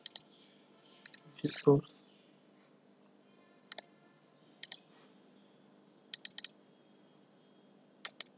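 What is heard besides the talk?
computer mouse clicking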